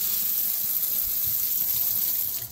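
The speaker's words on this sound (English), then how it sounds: "It can be really hard to get the soap out, so I like to fill the bottle up." Tap water runs steadily into a plastic bottle at a sink as it fills, a continuous close, even rushing stream with no talking.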